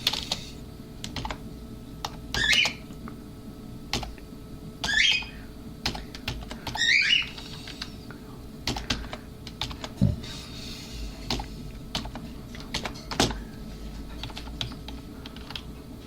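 Rapid clicking of keys on a computer keyboard, continuous and close, with a few squeaky chirps in between.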